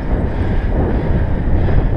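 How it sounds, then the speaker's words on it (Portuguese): Strong wind buffets the microphone on a mountain road in Serra da Estrela during a cycling climb, a loud, continuous rumbling roar that never lets up. "Faz muito vento hoje"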